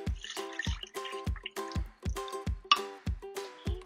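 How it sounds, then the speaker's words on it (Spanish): Evaporated milk poured into a blender for a mint-chocolate cheesecake, heard as a series of about eight regular glugging, dripping plops, close and fairly quiet, with no talk. "ponemos la leche evaporada"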